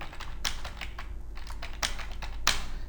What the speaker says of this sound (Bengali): আমি এখন ইংরেজি টাইপ করব